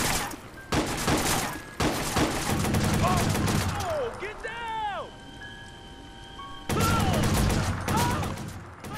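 Machine gun fire in the Watch Dogs video game, during an Iraq boss battle: loud, dense bursts of rapid shots that stop for a few seconds, then return, with voices heard around them.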